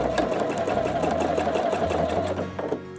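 A Pfaff Quilt Expression 720 sewing machine stitching ribbon runs in a steady, rapid whirring clatter, close and continuous before slowing and stopping near the end, with no speech.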